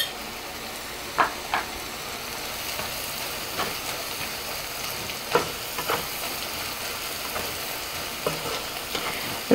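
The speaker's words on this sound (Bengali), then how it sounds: "এখন আমি দিয়ে দেব সেই কুচি করা রসুন, সবটুকু দেব না, এখান থেকে আমি কিছুটা রসুন দিয়ে দেব," Chopped garlic sizzles steadily in hot oil in a pan for a rohu fish roe curry, with a spoon scraping and stirring at intervals, close and continuous.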